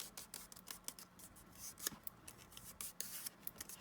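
Scissors trimming thin wood pieces for a recycled craft project, giving a faint, quiet series of irregular snips and rustling cuts with no talking.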